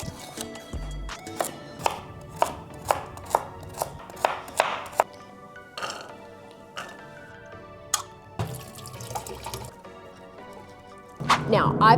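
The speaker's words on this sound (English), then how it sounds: "The most time-consuming part is chopping up all the veggies" Vegetables chopped on a cutting board for meal prep, a string of sharp, evenly spaced knife strikes up close, then a looser run of cuts and some scraping, with no talking.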